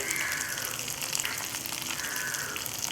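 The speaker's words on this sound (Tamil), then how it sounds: "மஞ்சள் தூள், உப்பு சேர்த்து இப்போ நல்லா வதக்கிக்கோங்க" Turmeric and salt stirred into fennel, cumin, poppy seeds, peanuts and cashews in a pan, a steady bright hiss and sizzle holding at an even level throughout with no voices.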